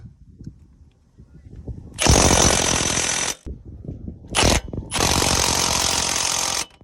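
Front-end bolts on a Ford Explorer being driven tight with a powered wrench: three loud, harsh, rattling bursts, one long, one very short and one long, close by, with quieter mechanical clatter in between.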